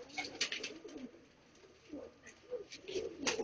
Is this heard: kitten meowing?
no